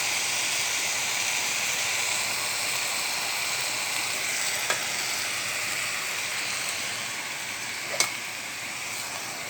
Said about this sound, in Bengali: নেড়ে চেড়ে দিচ্ছি, দিয়ে ঢেকে দেবো শাকগুলো মিশে আসুক।